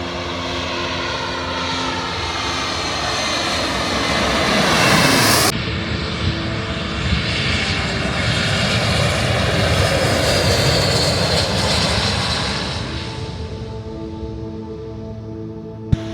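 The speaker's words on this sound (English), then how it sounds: "Seeing the planes taking off, it's always a wonder to see" At Arrecife airport on Lanzarote, a plane's engines roar loudly and continuously as it takes off nearby, the powerful rushing drone swelling and then slowly easing as the aircraft climbs away, with no voices.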